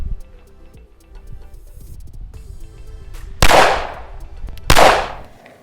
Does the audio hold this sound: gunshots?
yes